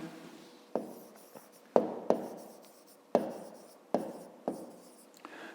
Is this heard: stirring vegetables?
no